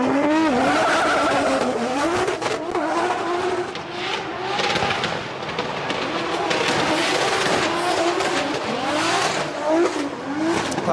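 A 2JZ-powered Toyota GT86 drifts at a DriftMasters competition on a circuit. Its loud engine wails and swoops up and down continuously, mixed with sustained tire squeal from start to finish.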